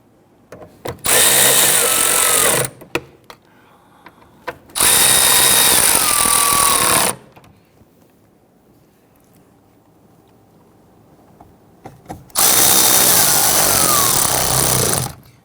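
A power tool whirs loudly in three sustained bursts of about two seconds each while snugging down bolts on a Kia Sorento during oil pressure switch replacement, separated by near silence and brief small clicks.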